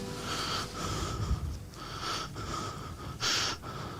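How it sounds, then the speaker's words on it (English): Frantic, heavy breathing from an animated character, a run of loud wheezing and snorting breaths with short gaps, the last one sharp and gasping, close up with no talk over it. "Ooh, his frantic breathing."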